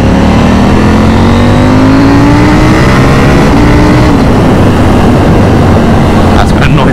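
A KTM 790 motorcycle rides into heavy traffic, its engine loud and close, rising in pitch as it accelerates, then settling under heavy wind rush.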